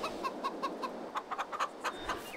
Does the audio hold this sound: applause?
no